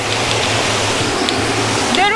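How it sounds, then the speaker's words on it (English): A small waterfall at a kids' pool splashes in a continuous, close rushing wash, with a brief voice near the end. "they have a cute little waterfall for the kids."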